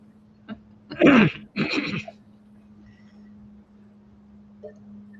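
A man clears his throat in two forceful, rasping bursts close to the microphone, followed by quiet room tone and a faint small noise.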